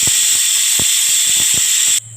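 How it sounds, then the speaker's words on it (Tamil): A pressure cooker cooking pumpkin lets out a loud, steady jet of hissing steam for about two seconds with faint rhythmic rattles underneath, then cuts off abruptly into a low hum. "மூணு விசில் வந்துருச்சு இப்போ நம்ம அடுப்பு ஆஃப் பண்ணிட்டோம்"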